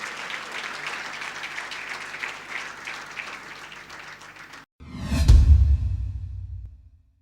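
Sustained applause for a Lifetime Achievement Award honoree at a 2012 East African business leaders awards ceremony, steady for several seconds, then cut by a brief gap and a loud whooshing swell that fades out.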